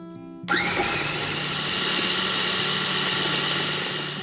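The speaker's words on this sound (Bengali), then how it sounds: "এবার এটাকে ভালো করে পেস্ট করব এর মধ্যেই মশলাটা ভালো করে মাখা হয়ে যাবে" A kitchen mixer grinder starts up abruptly and runs steadily, grinding a spice paste with kasuri methi and lemon juice for chicken kebab, a loud continuous whir with a high motor whine that holds to the end.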